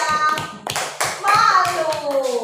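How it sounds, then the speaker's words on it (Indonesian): Schoolchildren in a classroom clap for a classmate in a few short, uneven bursts of hand claps, mixed with children's voices and a higher, sung-like tone. "tepuk tangan buat Nanda"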